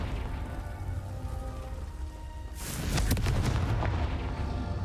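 Confringo blasting spell going off in a video game: a steady low rumble of background sound, then a sudden loud explosive burst with crackling debris about halfway through, followed by a sustained roar.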